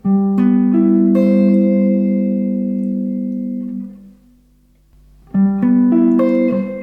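A keyboard chord rings out and slowly fades, then after a short pause the same chord in second inversion is struck and sustains, clear and close.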